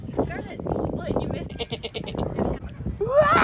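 A person imitates a goat's bleat with a wavering, nasal vocal cry at a pumpkin patch petting area, heard up close amid other people talking and background chatter.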